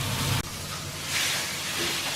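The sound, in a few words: steak sizzling in frying pan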